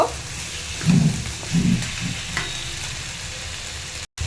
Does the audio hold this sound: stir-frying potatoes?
yes